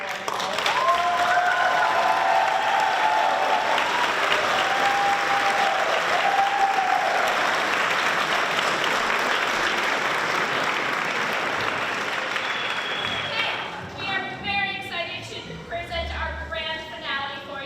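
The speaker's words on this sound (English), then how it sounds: "So how about a round of applause?" A concert audience at a memorial choir, orchestra and band concert applauds loudly and steadily, then the clapping thins toward the end as a few voices and scattered claps carry on.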